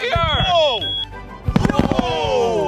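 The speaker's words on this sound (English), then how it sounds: "It's officially time for the big boy fireworks to come out." Large consumer fireworks set off in a backyard-style show, a crackling burst of launches and pops over excited voices, with whistling, sweeping tones and a dense cluster of bangs mid-way.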